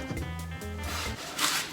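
A short burst of a drill's whirring hum grinding through wood on a console build, ending with a brief rough scrape, close by.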